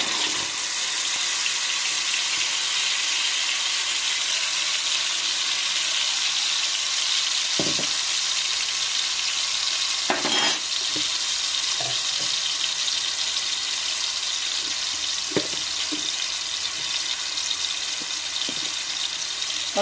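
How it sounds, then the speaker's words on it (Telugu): Cumin seeds fry in a pan with a steady, dense sizzle and crackle, broken by a few soft knocks of a utensil against the pan; no one talks. "జీలకర్ర ఫ్రై అయింది"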